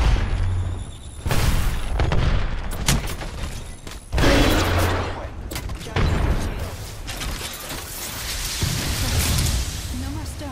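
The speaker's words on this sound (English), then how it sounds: "Grenade coming in." A grenade explosion and bursts of gunfire in the video game Apex Legends, with several heavy booms and rattling volleys spread across the stretch, loud and close, alongside game voices speaking.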